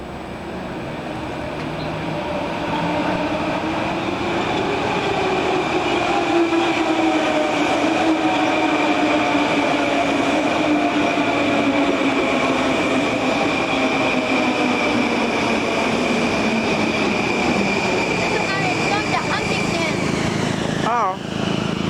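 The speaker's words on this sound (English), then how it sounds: "Here comes the next train, it's an M9. It's coming slow." Long Island Rail Road M9 commuter train pulling slowly into a station, a loud steady rumble and wheel noise lasting throughout as it rolls in close by.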